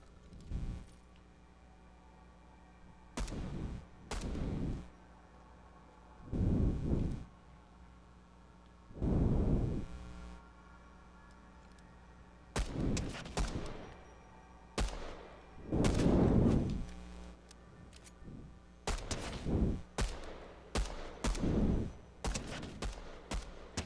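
Pistol shots in Fortnite, fired in spaced bursts of sharp cracks separated by quiet gaps, some single and some in quick clusters, moderately loud over a faint background hum.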